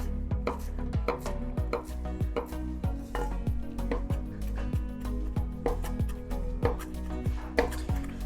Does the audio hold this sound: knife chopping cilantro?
yes